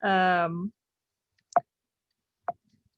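Two sharp, isolated mouse clicks about a second apart advance a presentation slide during a video game development lecture, following a brief burst of voice at the start.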